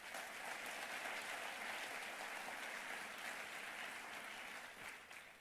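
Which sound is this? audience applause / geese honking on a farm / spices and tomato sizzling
audience applause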